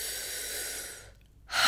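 A deep inhale during a breathing exercise, a steady airy breath drawn for about a second, followed by a brief pause and then the start of a sharp exhale.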